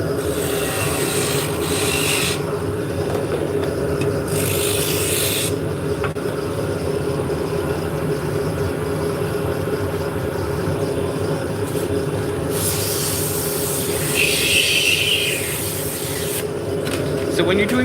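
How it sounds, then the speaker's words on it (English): A beading tool cuts a turning wooden drop spindle blank on a lathe, making a continuous rough, scraping hiss throughout, with occasional brighter bursts of cutting noise. "use a beading tool, which is just a V shape. You could easily cut that with a skew, but this is faster."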